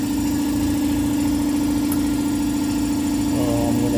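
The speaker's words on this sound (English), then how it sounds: "You can hear the air compressor running." A compressor inside a refrigerant recycling machine runs steadily, a loud continuous mechanical drone with a strong hum and vibration, close and unbroken throughout.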